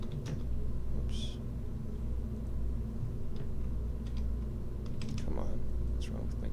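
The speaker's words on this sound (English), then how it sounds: "What's wrong with my keyboard?" Quiet clicks and taps of typing on a computer keyboard, scattered and irregular over a steady low hum, with a few sharper key clacks toward the end.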